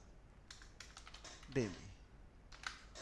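Keystrokes on a computer keyboard while entering text in Microsoft Word, a string of quick close clicks in short bursts with a brief louder tonal blip near the middle.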